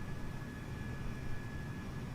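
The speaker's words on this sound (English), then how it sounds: "There's one of the Ryanair aeroplanes taxiing in." A Ryanair airliner taxiing at an airport in Microsoft Flight Simulator 2020 gives a steady, even jet-engine roar with a broad hiss and a faint high whine, unbroken and at constant level, with no talking.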